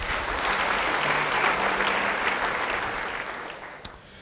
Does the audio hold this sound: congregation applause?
yes